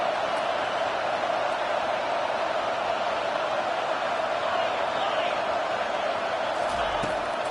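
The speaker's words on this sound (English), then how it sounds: "Decibels rising as the crowd gets behind this defense on 3rd down." Stadium crowd roar in the NCAA 25 college football video game on a 3rd-down defensive stand, a steady, dense wash of cheering that holds loud and even throughout.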